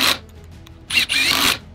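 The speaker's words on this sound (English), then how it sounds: "Looks like this one is the Metabo, the triple hammer." A Metabo triple hammer drill whirs in short loud bursts, one brief spurt followed by a longer run of about half a second, close up with no voices.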